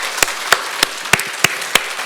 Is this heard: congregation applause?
yes